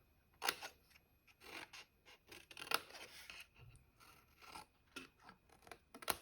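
Scissors snip through card while trimming a gift box, a series of quiet, irregular crisp cuts with short pauses between them, close by and alone.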